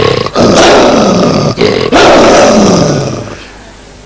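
A voice imitates a lion roaring, giving loud, sustained close-up roars broken by brief gasps for breath before fading out.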